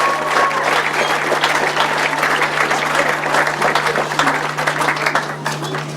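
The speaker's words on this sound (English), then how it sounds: "a big round of applause" Crowd applause at a grasstrack motorcycle racing event, a steady wash of many hands clapping at moderate loudness with a constant low hum running underneath.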